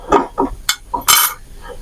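A spoon stirring oat snack batter with sesame seeds in a bowl, making a few sharp clinks and knocks against the bowl in an uneven rhythm, close and fairly loud with short gaps between strokes.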